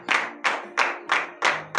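Congregation clapping in praise during a Saturday morning prayer service in Benin, five or six sharp, evenly spaced unison claps in a steady rhythm over faint sustained tones, close and clear.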